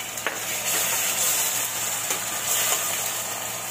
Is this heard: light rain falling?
no